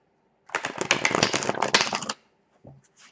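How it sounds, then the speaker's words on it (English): A close, loud riffle of tarot cards being shuffled, a fluttering burst lasting about a second and a half, then a couple of soft taps. "you want the cards to interlock like that so that you can swish them together"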